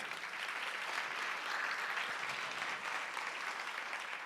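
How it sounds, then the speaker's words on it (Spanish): A church congregation applauds in a steady, even wash of clapping, fairly faint and distant, with no voices over it. "Y dele un aplauso al de siempre."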